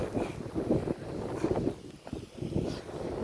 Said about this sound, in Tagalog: Malakas yung hangin niya